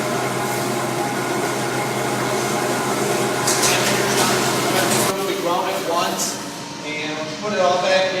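Meat grinder working through hunks of beef carcass in a butcher shop, a steady mechanical whir and hum running throughout with a rough, grinding texture, loud and continuous.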